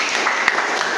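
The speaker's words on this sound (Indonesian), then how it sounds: "Tepuk tangan untuk kalian semuanya." A brief one-second burst of group applause for students in a class session, a continuous, fairly loud hiss of clapping with no break.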